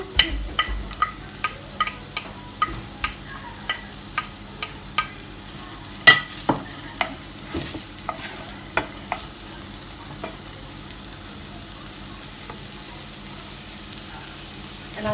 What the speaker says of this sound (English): So I'm just going to literally just give that a quick stir, and then add in the onions.